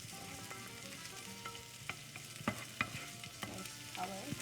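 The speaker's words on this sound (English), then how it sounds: "Garlic and jalapenos. And a good roast." Garlic and jalapenos roast in a hot pan with a steady close sizzle and crackle, plus occasional scraping taps of a stirring utensil.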